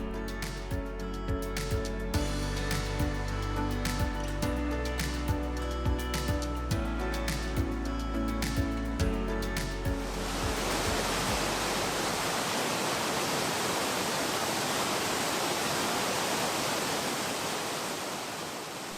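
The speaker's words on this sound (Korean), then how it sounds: "우리나라에서 가장 큰 석회암 동굴에 들어서자 우렁찬 폭포가 맞이해줍니다." A roaring waterfall inside the Daegeumgul limestone cave pours as a loud, steady broadband rush that fills the second half, after an opening stretch of music with a plucked, rhythmic backing.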